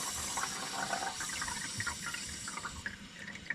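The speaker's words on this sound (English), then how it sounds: "Now I never have to worry about filling my coffee maker again." Water runs steadily as a plumbed-in Keurig coffee maker fills from a home water line, a continuous close hiss and gurgle with light splashing, no voices.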